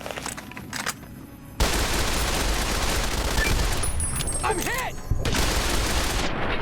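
Missile blasts from Securitron robots in Fallout New Vegas, with a sudden loud burst of explosive noise, sustained heavy rumble and gunfire-like crackle, a brief dip, then another loud blast near the end.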